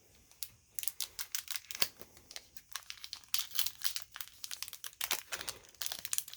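A Disney Lorcana card pack wrapper is torn open by hand, with close, crisp crinkles and sharp tearing bursts coming in quick irregular snatches.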